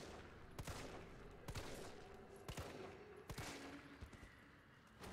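Pistol shots ring out in Resident Evil 3 Remake, four sharp reports spaced roughly a second apart over a dense, noisy game soundscape, loud and close with no voices.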